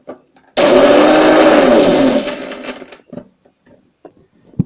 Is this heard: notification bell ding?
no